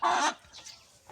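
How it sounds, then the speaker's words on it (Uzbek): Laying hens in a home flock cluck and squawk at close range in a loud burst, then give a few fainter clucks over the next second, with no talking. "Mana hozir bizning tovuqlarimiz hammasi tuxumda"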